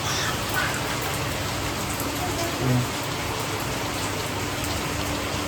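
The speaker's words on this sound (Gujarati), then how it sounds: "અમારે ધોધમાર વરસાદ ચાલુ થઈ ગયો છે" Heavy rain pours steadily at night in a dense, continuous hiss, close and loud throughout, with a brief faint bump partway through.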